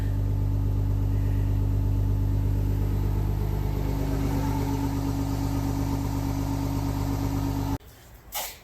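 A 24v Cummins diesel truck engine holds a high idle after a cold start, giving a loud, steady, close rumble with an even drone that cuts off abruptly near the end.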